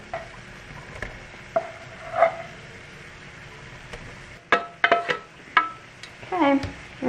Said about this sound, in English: we're gonna stir this all together